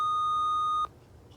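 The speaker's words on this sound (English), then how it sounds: "Here comes the beep." A single answering machine beep, a steady clear electronic tone lasting under a second, cuts off sharply into quiet room hiss.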